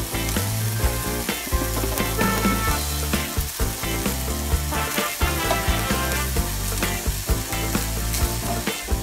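Vegetables and seasoning stir-fried for mie goreng sumsum: white spice paste, cabbage, mustard greens, chili, carrot and spring onion sizzle loudly in a pan. Continuous frying runs throughout with steady scraping and stirring clatter.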